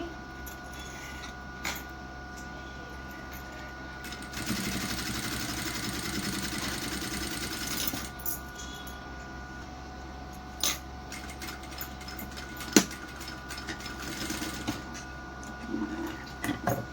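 A sewing machine runs steadily while stitching piping onto a plain blouse, a continuous mechanical whir with a louder stretch in the middle and a few sharp clicks, no talking.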